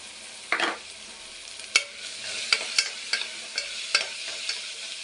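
Mixed vegetables dropped into a pan with ginger-garlic paste for vegetable pulao, a burst of sizzle followed by a spoon stirring and tapping the pan every half second or so, close and clear with no voices.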